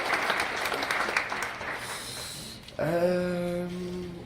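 An audience claps for newly introduced tax specialists at a seminar on taxation for seniors, a dense patter that fades after a couple of seconds before a voice cuts in.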